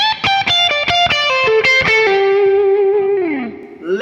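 Lick two of a song on distorted electric guitar: a brisk descending run of picked notes flowing into a long sustained note that bends down and slides at the end, heard solo.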